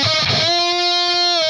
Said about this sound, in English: play the metal zone pedal instead, cranked up to sound really crazy and fuzzy and saturated